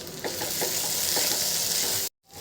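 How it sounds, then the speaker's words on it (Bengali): Sauce being stirred into chicken pasta in a pan, tomato purée and sauce among the additions, with a steady broadband sizzle and soft scraping knocks of the spoon, loud and close, ending in a brief sudden dropout. "এখন এটা আমি ভালোভাবে মিশিয়ে নেব"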